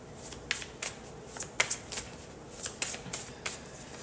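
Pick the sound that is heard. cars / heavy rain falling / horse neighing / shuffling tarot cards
shuffling tarot cards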